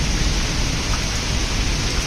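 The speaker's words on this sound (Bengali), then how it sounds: "দেখো বৃষ্টি হচ্ছে, আর মেঘেও ডাকছে ভীষণ।" Steady, dense rain hisses continuously, with a faint low rumble of thunder underneath.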